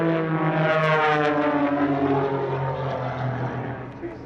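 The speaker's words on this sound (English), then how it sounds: "The orange aircraft is a Wolf Pitts S111X, and the 2 red and white planes are Pitts S1SEs" Pitts S1SE and Wolf Pitts aerobatic propeller planes fly at an airshow in the Hunter Valley, a loud buzzing drone that swells and then fades as they pass.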